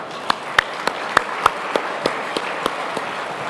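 Clapping from an audience at a city's State of the City address comes as a sparse, regular series of about a dozen sharp claps, like one or a few people, over a low room hum.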